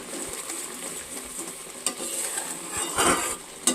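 Ground spices are stirred into mango pickle cooking in a pan, a soft sizzle under light scraping strokes, with a couple of sharp utensil knocks.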